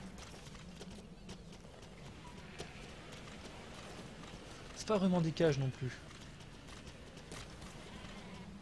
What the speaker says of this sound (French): Ça, c'est des moutons.